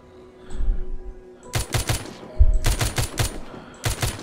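Rapid bursts of automatic gunfire from a fast-firing weapon in The Walking Zombie 2 game, several quick rattling volleys separated by short pauses, loud and close.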